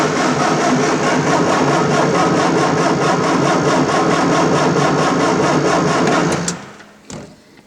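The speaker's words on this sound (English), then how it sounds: "here goes for the first start attempt. Ignition, fuel pump." Engine running steadily at a loud, constant drone for about six seconds on a first start attempt after switching on ignition and fuel pump, then cutting out abruptly into near silence with a brief faint knock.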